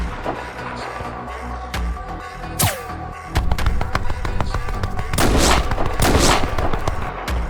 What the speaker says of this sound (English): How did you manage to dodge my sniper shot?